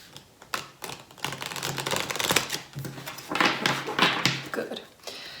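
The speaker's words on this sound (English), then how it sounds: "Let's give it another round of shuffling here." Tarot cards shuffled by hand in bursts of riffling, flapping clicks, close and moderately loud, with short pauses between rounds and no talk over them.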